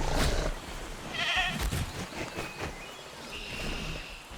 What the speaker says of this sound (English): witnessing the Postosuchus hunt down a goat.